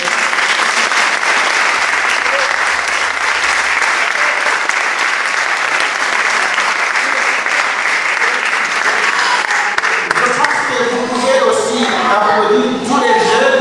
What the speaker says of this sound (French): ce sont des musiciens. Applaudissez les.